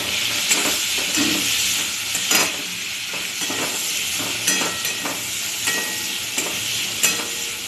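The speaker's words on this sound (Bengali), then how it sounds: "চিংড়ি মাছটা প্রায় ভাজা হয়ে এসেছে, একটু পেঁয়াজ ছেড়ে দিলাম, পেঁয়াজ দিয়ে একটু নাড়বো চিংড়ি মাছটা" Prawns and onion fry and are stirred in a pan: a loud, continuous sizzle and hiss punctuated by regular scraping strokes of the spatula.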